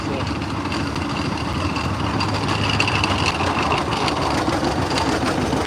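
An antique tractor engine runs rough and misfires at an outdoor tractor-pulling event, a continuous low rumbling chug with uneven beats, loud and nearby, while people talk in the background.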